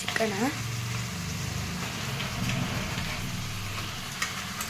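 Chicken going into a hot pan with ginger and garlic: a steady, even sizzle continues under a person talking throughout.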